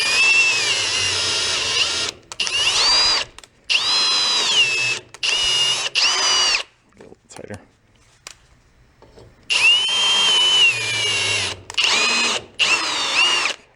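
A power drill spins a thread tap into a golf cart engine part during a rebuild, running in loud whining bursts with pauses, its pitch sagging under load; a voice speaks briefly in a gap.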